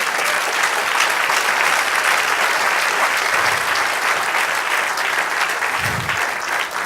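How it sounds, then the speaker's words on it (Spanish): A church congregation claps steadily and loudly for several seconds, a dense sustained wash of hands with no pauses. "Denle un aplauso al Señor."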